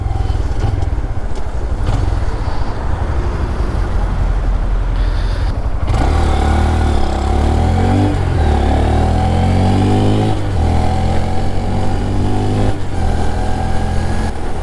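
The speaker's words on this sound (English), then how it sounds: "a Honda Grom beats a Ford Mondeo off the line" A Honda Grom motorcycle pulls away from a standstill, its small engine droning steadily and then rising in pitch through the gears. The engine is close and loud, with wind noise throughout and no talking.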